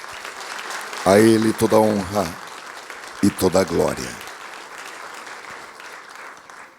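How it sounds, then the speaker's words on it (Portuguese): A church congregation bursts into loud applause during a sermon on water baptism, sustained clapping filling the room beneath a preacher speaking over it. "Podemos aplaudir o Senhor."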